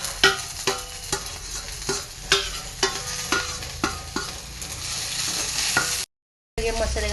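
Okra frying with cumin in a pan, a steady sizzle broken by a regular series of sharp scraping and clanking stirs that are close and clear, then a brief silent gap before the frying resumes.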